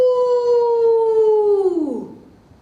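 A person imitates a wild creature's howl in one long, loud, sustained cry that slides downward and trails off, alone with nothing else around it.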